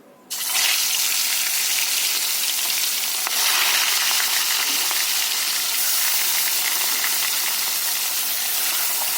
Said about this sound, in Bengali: তেল খুব ভালো করে গরম হয়ে গেছে মাছটা ভেজে নেবো